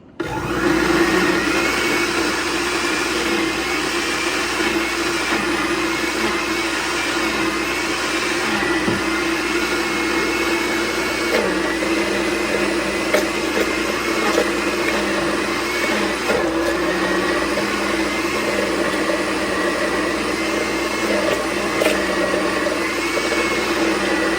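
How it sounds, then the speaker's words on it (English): A blender on low runs steadily mixing muffin batter, with a continuous loud whirring drone that stays constant throughout, with no talking. "Just turn the blender on low and mix all this together."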